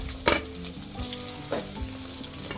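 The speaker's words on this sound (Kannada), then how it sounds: "ಇದೆಲ್ಲ ಕಂಪ್ಲೀಟಾಗಿ ಫ್ರೈ ಆಗಬೇಕು" Slit green chillies and onion frying in a pan, a continuous crackling sizzle with a sharp spatula scrape near the start and another softer stir midway, no talking.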